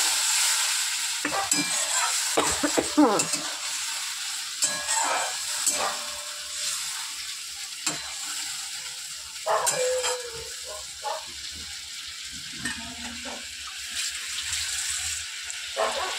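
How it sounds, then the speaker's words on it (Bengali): Curry sizzling in a pan with water being added, giving a close, steady hiss under repeated scraping and stirring knocks, with no talking. "এবার একটু জল দিয়ে দেবো, কষে গেছে।"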